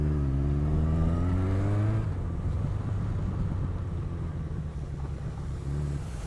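A car drives close past a motorcycle on a road, its engine rumble steady and fairly loud, with a brief rising rev at the start and no talk over it.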